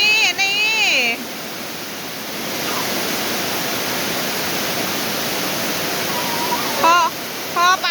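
Heavy rain pours in a steady, loud broadband hiss that fills the whole stretch, with voices talking briefly at the start and again near the end.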